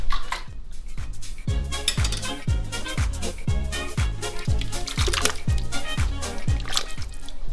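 A spoon stirs beef lu'au stew in a pot with a steady rhythm of soft clinks and knocks. Wet, liquid sloshing runs beneath the strokes.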